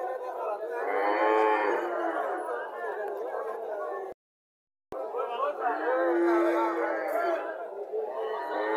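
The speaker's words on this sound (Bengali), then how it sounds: "বাছুরটা সার বাছুর এখানে আরো একটা গাভি দেখা যাচ্ছে" Cows and calves of a PGM-type dairy herd moo in long, loud, drawn-out calls close by, two extended bellows separated by a short silent gap, with faint chatter in the background.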